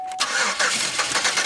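The starter cranks the engine of a Pontiac Aztek that has bad fuel in it, a close, loud, rhythmic cranking that lasts about a second without catching.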